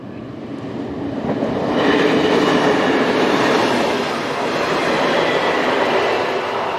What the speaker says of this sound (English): This is the station at Inns, as we see one of TPF's two Class 567 units departing westbound,